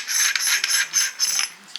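A ratchet on an oilfield Hi-Flow assembly is screwed out with a steady metallic rubbing and clicking, several short bursts close up with no talk.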